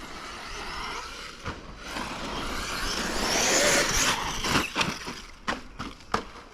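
A Traxxas Sledge RC car on Pro-Line Trencher LP tires revs up under throttle over bumpy ground, a rising whine that swells and then breaks into short bursts and sharp knocks, fairly close and without talk.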